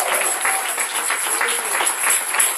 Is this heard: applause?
yes